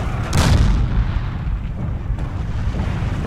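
In a Forgotten Hope 2 battle at Gold Beach, a loud artillery blast is followed by a deep, rumbling roll of distant shellfire that keeps booming steadily throughout.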